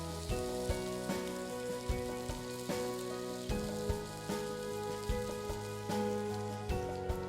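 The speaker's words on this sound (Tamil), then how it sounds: "சைடில் வந்து சிக்கன் நல்லா குக் ஆகிட்டுருக்கு, நல்ல ஒரு கலர் வந்துட்டுருக்கு" Marinated chicken fries in hot oil in a pan with a steady, close, crackling sizzle, broken every second or so by soft clinks of a utensil turning the pieces.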